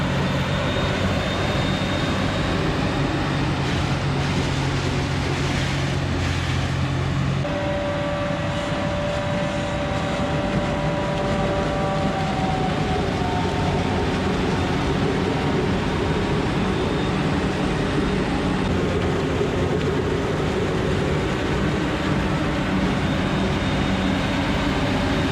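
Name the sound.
corn silage harvester chopping corn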